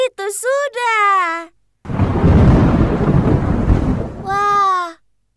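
A thunderstorm with rain roars for a few seconds as a loud, broad rumbling wash between bursts of speech from people talking before and after it.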